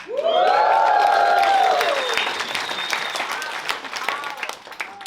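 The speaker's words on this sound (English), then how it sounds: "Isn't it kind of sad that you get an applause for getting an apartment in Sweden?" A stand-up comedy audience breaks into loud applause and cheering, with a whooping rising voice over steady clapping that slowly eases off.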